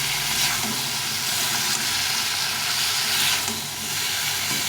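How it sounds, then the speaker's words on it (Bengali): Masala spice paste fries in a pan for a fish curry with bitter gourd and drumsticks, a steady, close hiss and sizzle that swells and dips slightly without any talking. "মশলাটা যেন গন্ধ না করে সেভাবে ভালো করে কষে দিই"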